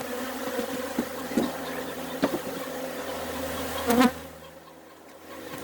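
Honey bees buzz steadily around an open nuc box hive holding five frames of honey and brood, a continuous close drone with a few louder passes as bees fly near.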